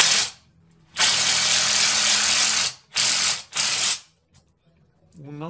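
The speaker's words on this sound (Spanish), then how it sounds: "agarramos nuestro tornillo y ahí se lo metemos" A power drill whirs in several bursts, one long and two short, driving a screw into a lightweight door, loud and close with brief pauses between runs.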